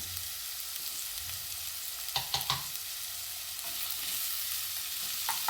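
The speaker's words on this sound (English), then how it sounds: "the oil is hot. And I like onions" Onions sauté in hot oil with a soft, steady sizzle, while a few sharp utensil clicks and scrapes land in the middle and near the end; no one speaks.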